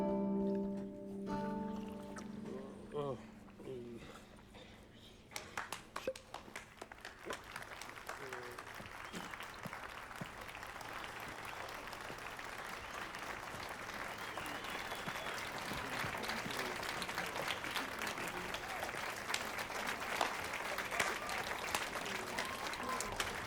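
Crowd applause after a sung song in the video game Witcher 3, a lute melody fading out into a steady, fairly quiet patter of clapping that swells slightly and keeps going.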